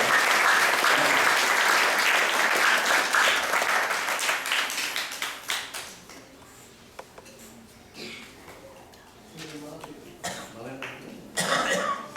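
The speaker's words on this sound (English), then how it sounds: "let's give another round of applause for" Audience at a temple Sunday class gives a round of applause that is loud at first, then fades over several seconds; coughs and scattered voices follow, with a brief burst of clapping near the end.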